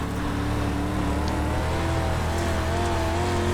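A Street Stock race car engine drones steadily at high revs on the dirt oval at Limaland Motorsports Park in iRacing, loud and continuous, with faint tire scrubbing beneath it and no talk.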